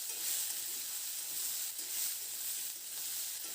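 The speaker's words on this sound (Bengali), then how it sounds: "সবজিগুলোকে মিডিয়াম ফ্লেমে খুব ভালো করে নাড়াচাড়া করে লালচা রং ধরা পর্যন্ত একটু ভেজে নেব" Vegetables fry in a pan over a medium flame, giving a steady, close, even sizzling hiss that carries on without a break and with no talking.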